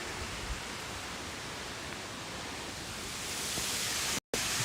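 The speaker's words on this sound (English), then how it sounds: "With just the mountains and the sound noise? The waterfall noise?" Continuous broadband rush of a waterfall at Mount Rainier National Park, an even hiss-like roar steady from start to finish with no voices over it.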